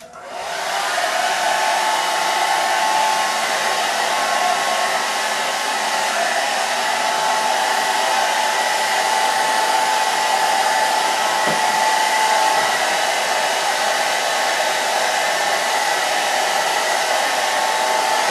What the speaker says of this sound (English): Now I am going to actually blow dry this in.